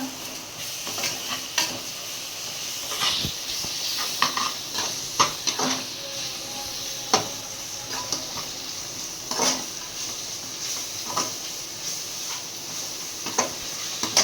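Ginger garlic paste for biryani sautés in a pan, with a soft continuous sizzle broken by repeated scraping and clinking stirs of a utensil against the pot.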